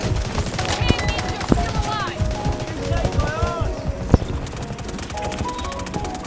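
Rapid bursts of gunfire and machine-gun fire in the Delta Force Mobile shooter game, crackling shots scattered throughout with a sharp louder crack near the end, under excited voices.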